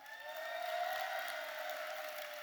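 Audience at the Lincoln University of Missouri Masked Ball applauds, a steady wash of clapping filling the whole short stretch with no talk.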